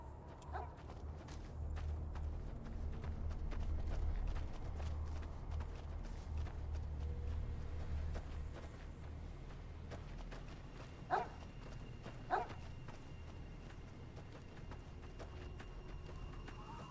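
Dog running in Fallout New Vegas, its quick padded footfalls pattering in an even run beneath a low ambient hum, faint, with two sharp louder knocks near the end.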